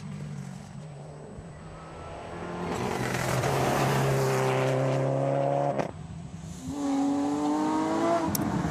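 A Subaru Impreza rally car races at a rally in Limousin, its engine note rising through the gears as it approaches and roars past loudly, then a second burst of climbing revs follows.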